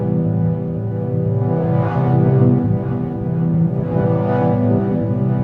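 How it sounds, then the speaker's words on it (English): A sustained synth pad chord on a Deluge holds steady, its tone swelling and wavering in slow, stepped warbles from a sample-and-hold LFO. No voices. "So that warble in the end is a sample and hold LFO."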